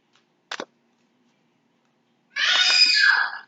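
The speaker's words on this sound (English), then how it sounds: "my daughter's screaming in the background" A short click, then after a pause a child lets out a high, shrill scream lasting about a second, fairly close and loud.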